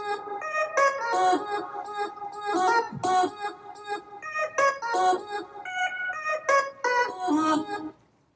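A chopped vocal melody layered over a bright lead synth, playing rhythmic stabs and phrases that stop abruptly near the end.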